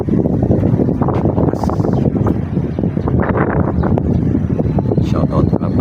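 Strong wind buffets the microphone in a loud, continuous roar, with the rush of a moving boat underneath.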